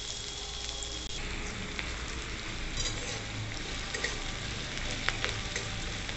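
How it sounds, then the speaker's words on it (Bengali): Onions frying in hot mustard oil in a wok (kadai), a steady dense sizzle and crackle throughout with no talking. "আমি কড়াইয়ে পেঁয়াজটা ছেড়ে দিয়েছি।"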